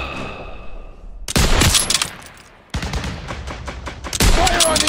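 Call of Duty: WWII machine-gun fire rattles in long, loud, dense bursts of rapid shots close by, broken by a brief lull before firing resumes.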